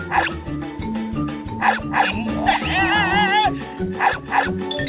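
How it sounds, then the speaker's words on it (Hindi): Wild dogs in a Motu Patlu cartoon bark and yip in short repeated bursts over busy cartoon music, joined midway by a wavering whine, all fairly close and lively. "अब जॉन को जंगली कुत्ते काटेंगे"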